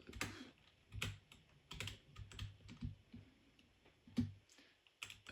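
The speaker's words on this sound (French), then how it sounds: "mes bruits de clavier doivent péter les couilles, je pense" Rapid, uneven clacking of a computer keyboard during a Minecraft session, with bursts of keystrokes and short gaps, quiet and close.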